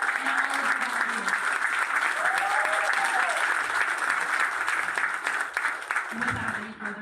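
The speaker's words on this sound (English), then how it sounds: "please give another round of applause for Mr. Lawhorn, Mr. Sadler, and all of the volunteers." An audience at an evening campaign rally for Jo Jorgensen in Oklahoma City claps and cheers loudly for several seconds, with the applause steady throughout before it begins to thin at the end.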